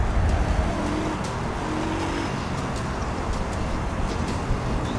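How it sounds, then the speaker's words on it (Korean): Four-wheel quad bikes roar across a sandbar, a loud, continuous engine drone with low rumble holding steady throughout, no voices. "요란한 소리를 내며 오토바이는 모래톱을 질주합니다."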